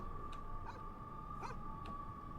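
Dog yelping and whimpering in the horror game Fears to Fathom: Home Alone, four short high cries spaced across the clip, faint and in the distance, heard over a steady tonal hum with no talking.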